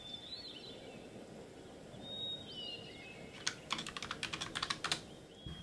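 Keyboard typing in the video game Gabriel Knight 3: a quick run of crisp key clicks in a burst of about a dozen strokes, following faint bird chirps over a quiet ambient backdrop.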